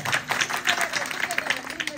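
An audience at a Marathi kirtan during a Wari pilgrimage claps in a dense, brisk patter for two seconds, with a voice speaking over the applause.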